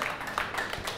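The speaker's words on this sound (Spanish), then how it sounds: "Un aplauso, señoras y señores" Audience applause at a live Mexican comedy show, a brief burst of dense, steady clapping from a crowd with faint voices mixed in.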